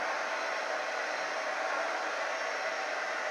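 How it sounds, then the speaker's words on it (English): A hair dryer blows steadily throughout, a constant loud broadband whoosh with no pauses or voices. "Hopefully you can still hear me over the hair dryer."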